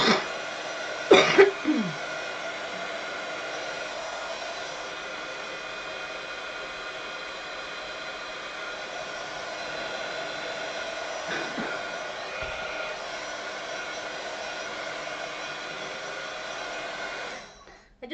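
A heat tool blows a steady, loud whirring drone while drying metallic paint on a craft project, with a few brief knocks near the start and the blower cutting off at the end.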